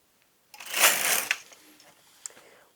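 A knitting machine carriage is pushed across one row, making a single loud, close rasping slide lasting under a second, followed by a few faint clicks.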